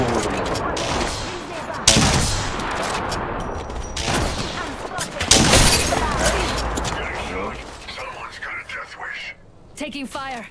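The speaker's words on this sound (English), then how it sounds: "Taking fire." Apex Legends gun battle with repeated loud volleys and sustained automatic fire, punctuated by sharp booming shots, while game voice callouts talk over the action and the firing thins out toward the end.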